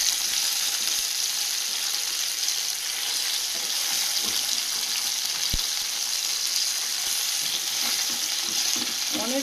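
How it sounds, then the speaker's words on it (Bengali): Whole bhola river fish fry in a flat frying pan with a continuous, even, close-up sizzle, one soft knock partway through. "এই ভোলা মাছগুলো ফ্রাই প্যানে ভাজছি, সব গোটা গোটা থাকবে"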